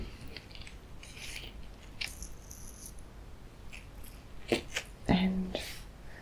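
Scissors or cutters snip through an old jewellery chain with a few small, sharp, close clicks and a brief metallic clink, quiet and sparse, with faint breathy handling noise around them.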